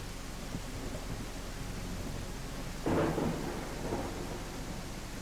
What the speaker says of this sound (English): It's too early for a storm